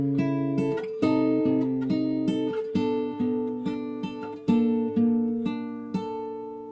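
Acoustic guitar plays picked arpeggio parts from a song, ringing notes struck in a steady, flowing rhythm, played solo and close.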